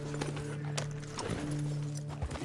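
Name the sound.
horse hooves in Red Dead Redemption 2 video game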